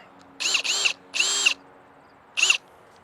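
A new Ridgid brushless hammer drill driving a screw, its high motor whine rising in three close bursts, two longer runs followed by a short final pulse.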